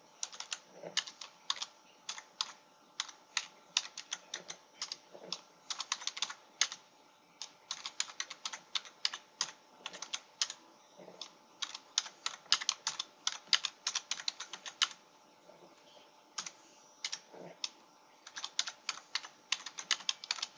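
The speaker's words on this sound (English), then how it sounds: "I'm going to just go ahead and type in a headline for this squeeze page." Someone types steadily on a computer keyboard, a close, continuous patter of key clicks in quick runs broken by short pauses, with no talking over it.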